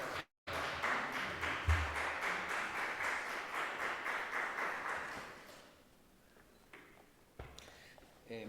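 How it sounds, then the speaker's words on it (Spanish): An audience at a writing event held by a book publisher applauds for about five seconds, a dense spread of clapping that then thins into scattered claps and small noises. "Así que pido un fuerte aplauso para Fede."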